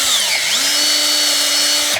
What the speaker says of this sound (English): And then I just took my drill,